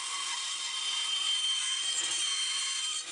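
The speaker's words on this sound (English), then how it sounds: "we cut out the approximate shape of the circle around the gear template" Saw steadily cutting wood around a gear template, a continuous bright rasping hiss, close and loud with no talk, fading at the very end.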